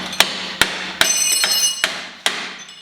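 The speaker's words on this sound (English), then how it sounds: "Lightly tap this in the place" A hammer lightly taps a part into place on a Jeep TJ Rubicon in a garage, giving six sharp ringing metallic strikes at uneven intervals with brief decays, close and clear.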